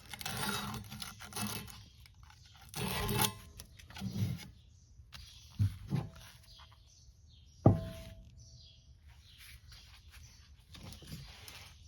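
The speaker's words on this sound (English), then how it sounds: "this is some just some regular old sandpaper. I just coil up a little piece. Gonna go around on the inside." Regular sandpaper coiled up and rubbed around the inside of a hole during a long-travel rear suspension install on a Yamaha YXZ, heard as intermittent scratchy rasping bursts with a couple of sharp knocks and quiet gaps between them.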